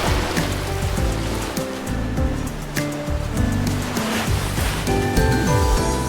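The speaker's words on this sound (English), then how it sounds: "The waves here." Ocean waves from the romance game Love and Deepspace wash steadily and fairly loud, a continuous surf beneath a layer of soft piano-like musical tones, with no voices.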